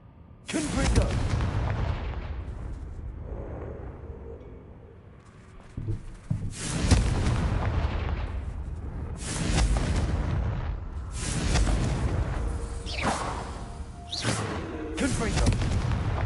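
Confringo spell blasts in Hogwarts Legacy, several heavy, booming explosions with long rumbling tails, spaced a few seconds apart, loud and close, with some talking between them.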